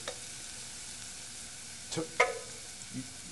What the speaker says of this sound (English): while Gianluca's sauteing the onion